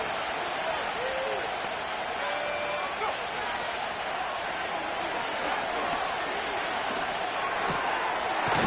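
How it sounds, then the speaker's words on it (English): A football stadium crowd roars steadily before a third-down play, a dense, continuous wall of cheering that stays loud throughout, with a voice faintly underneath. "This crowd into it now as we get to 3rd down."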